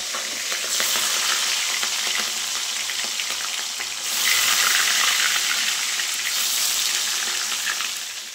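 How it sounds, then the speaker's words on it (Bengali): Fish pieces rubbed with salt and turmeric fry in hot oil in a wok, giving a loud, steady crackling sizzle that runs without a break and swells slightly halfway through, with no voices. "দেখো মাছ ভাজাটা বসিয়ে দিয়েছি"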